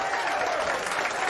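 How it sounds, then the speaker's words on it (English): A live audience applauds in a steady, dense wash of clapping that fills the whole short stretch, with a faint murmur of crowd noise beneath it. "Give yourselves a round of applause for coming out here"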